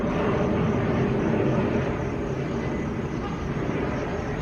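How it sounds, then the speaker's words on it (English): Steady low roar of two airplanes coming in to land overhead, fairly loud and continuous, easing slightly toward the end. "It's actually 2 planes coming in for a landing."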